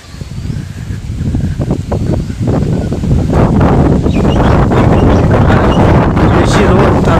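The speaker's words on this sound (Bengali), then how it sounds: "বাতাস খুব প্রচন্ড বাতাস" Strong wind gusts across an open, sun-dried roadside, roaring and buffeting the microphone steadily, growing louder and rougher after the first few seconds.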